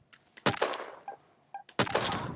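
Cartoonish weapon fire in the online shooter game Shell Shockers: two loud, close gunshot blasts with trailing decay, broken by a few small clicks and tones between them.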